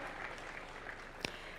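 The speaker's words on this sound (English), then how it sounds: "Let's give him a round of applause as well." Applause from an audience at a national conversation event at KICC in Nairobi, a faint and steady wash of clapping heard from a distance.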